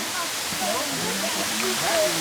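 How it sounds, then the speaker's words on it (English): A waterfall at Silver Falls State Park in Oregon heard from a cave behind the falling water, a steady, loud broadband rush that fills the scene, with faint voices partly buried under the roar. "And we're right behind a waterfall now."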